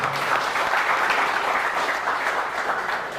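An audience at an embedded systems and robotics training event claps continuously, a dense, even applause from many hands lasting the whole stretch without a pause.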